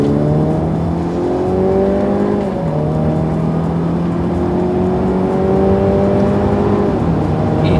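A car fitted with Michelin tyres accelerates steadily, its engine note rising in smooth climbing tones with a brief drop at a gear change, loud and close with constant road and cabin rumble.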